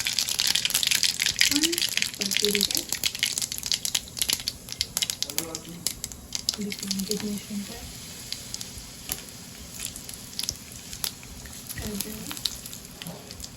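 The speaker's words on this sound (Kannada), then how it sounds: "ಎಣ್ಣೆ ಹಾಕೊತಾ ಇದ್ದೀನಿ ಗೈಸ್ ಸಾಸ್ವೆ ಹಾಕಿದ್ದೀನಿ" Mustard seeds crackle and sizzle in hot cooking oil at the start of a palya, a steady close frying hiss with brief bursts of stirring and splashing, while someone talks over it.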